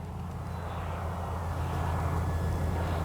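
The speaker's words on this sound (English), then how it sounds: "This plane is in its element right now." A Kavan Pilatus PC-6 Porter RC model plane flies overhead with a steady, droning engine hum and a low, rumbling wash of wind noise, no voices.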